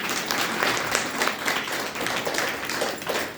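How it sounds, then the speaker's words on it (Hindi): Women in the audience at a spiritual camp gathering clap together, a dense, continuous burst of applause with brisk, uneven hand claps throughout and no speech over it. "कितनी जोर ताली होना चाहिए महिला लोगों का"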